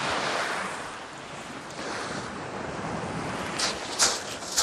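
Sea surf washing onto the shore on a morning in Sochi, a steady broad wash of waves with a few louder breaking surges toward the end, alone with light wind noise and no talk.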